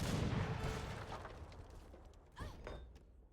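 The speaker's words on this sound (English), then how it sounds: "here goes the mortar" An Age of Empires III mortar booms with a heavy thud that rolls off into a fading rumble, followed by a second, smaller impact. Both shots sound mid-distance against faint battle noise.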